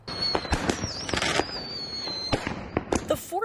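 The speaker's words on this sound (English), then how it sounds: "This is where the city is hosting a professional fireworks show this year." A professional Fourth of July fireworks show at Medical Lake pops and bangs in a rapid irregular series of sharp bursts, some loud and close, others fainter, with crackling between them.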